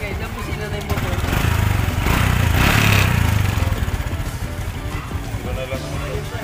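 An old motorcycle with new wiring runs its engine in a steady, loud, rumbling drone that swells briefly in the middle before settling back to an even idle.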